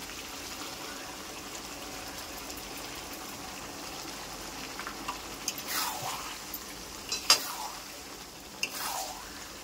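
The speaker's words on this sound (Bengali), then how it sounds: "ভালো করে নেড়ে নিতে হবে টমেটো পিউরিটা দিয়ে।" Mutton being stirred with tomato puree in a frying pan: a quiet, steady sizzle with a few soft scraping and stirring strokes growing more noticeable toward the end.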